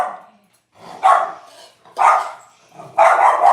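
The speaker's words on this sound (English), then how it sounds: "my dog Archie is getting so excited because he cannot hear me." Three loud, close dog barks, each a sharp burst with a short pause between them, coming from an excited dog in a home kitchen.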